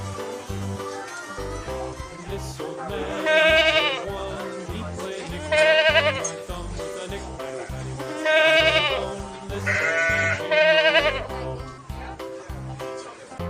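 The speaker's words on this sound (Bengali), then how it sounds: "ছয়ে ছাগল ছানা লাফিয়ে চলে" A goat kid bleats in four loud, wavering cries spaced a couple of seconds apart, set against a steady backing of children's music.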